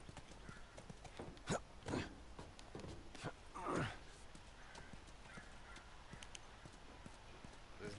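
Horse hooves clip-clop in a few brief, uneven bursts in the video game The Last of Us, set against a constant background bed with a soft whinny-like swell, while someone talks over it.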